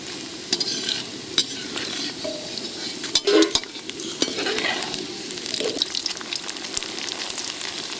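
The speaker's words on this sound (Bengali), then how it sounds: "সুন্দর করে পাঁপড় ভাজছে" Papad fries in hot oil in a wok in a large home kitchen, a bright crackling sizzle punctuated by repeated scraping and clacking from a utensil stirring and turning the wafers.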